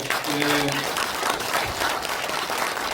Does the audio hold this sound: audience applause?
yes